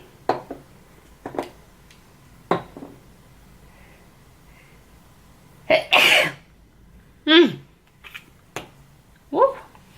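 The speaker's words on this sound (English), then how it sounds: "I feel like I'm gonna sneeze horribly" A person sneezes indoors, a sharp burst followed by a few shorter snorts and throat sounds, close and loud with quiet pauses between and no speech.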